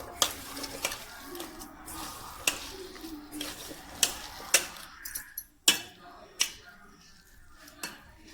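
Hand kneading a boiled egg masala mixture for cutlets, soft squishing and pressing with sharp clicking taps recurring every second or so, fairly quiet and without talk.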